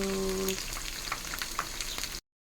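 Steady crackling sizzle of battered enoki mushrooms deep frying in hot oil, close and continuous, with a brief tonal hum at the start before it cuts off.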